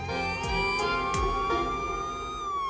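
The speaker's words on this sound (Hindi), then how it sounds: "पुलिस की गाड़ी आ गई।" A police car siren wails loud and steady, its rising and falling tone holding without a break and nobody speaking over it.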